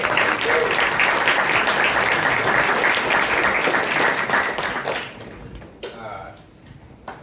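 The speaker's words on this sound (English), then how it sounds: "I'd like to give Isaac a round of applause" A room full of listeners claps steadily for a speaker at a science talk about ketamine and dissociation, the dense applause holding strong for about five seconds before thinning into a few scattered claps and fading out.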